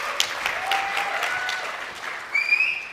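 A conference audience gives a brief round of applause, steady and moderately distant, with no one speaking over it.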